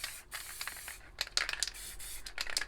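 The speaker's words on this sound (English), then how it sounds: "So we'll go on to a low pressure spray paint now, the spray paint cans." A low-pressure Montana Gold spray paint can with stock caps spraying paint in short hissing bursts of varied length, separated by brief pauses, close and clear with no voices.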